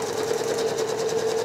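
Close and steady, a sewing machine hums at a fast, even rate while free-motion travel stitching across a quilt, with no pauses or voices.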